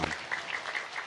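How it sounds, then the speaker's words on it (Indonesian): Brief burst of audience clapping at an Islamic religious gathering, heard faintly and at a distance for about a second, with no speech over it. "Tepuk tangan"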